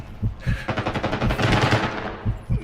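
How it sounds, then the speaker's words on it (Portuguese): Rapid automatic gunfire from Call of Duty Warzone, loud bursts of machine-gun fire with a few separate heavy shots before and after, close and dominant, with no talk over it. "Estão atirando."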